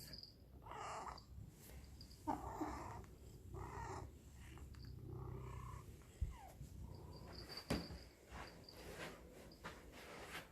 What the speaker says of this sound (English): And everyone should end the day with some purrs as well.